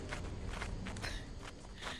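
Footsteps in the video game Lethal Company, a steady run of quick, crisp steps with sharp high-pitched clicks, fairly faint, alone with no talking.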